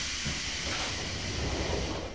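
A train in the Go Go Nippon video game lets out a steady, loud hiss of air that runs through the whole short stretch without a break.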